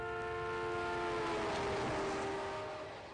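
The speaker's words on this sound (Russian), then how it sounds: "При приближении поезда звук гудка становится более высоким." An approaching train's horn blares a long, steady chord over rumbling rails, its pitch shifting downward partway through as the train passes, the sound swelling and then easing off.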